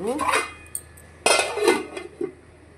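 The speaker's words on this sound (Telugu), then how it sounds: "ఇప్పుడు మూత పెట్టేసుకుందాం" A metal lid set onto a cooking pot of potato curry, with close, bright clanks and rattles in two bursts followed by a few lighter clinks.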